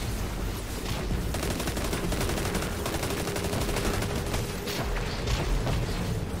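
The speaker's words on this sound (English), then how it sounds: "Oh man, it's a lot of bullets." Rapid automatic gunfire from a Destiny 2 firefight in the Beyond Light expansion, a dense continuous fusillade of overlapping shots with booms mixed in, loud and sustained throughout.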